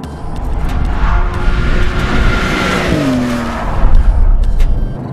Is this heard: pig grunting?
no